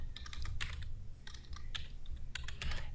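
Typing on a computer keyboard while setting up a GitHub repository in Visual Studio: bursts of quick, close key clicks in uneven clusters over a steady low hum, with no talking.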